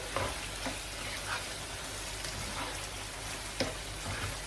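Chicken livers, hearts and kidneys fry in a pan, a steady close sizzle and crackle with occasional louder spits, no voices.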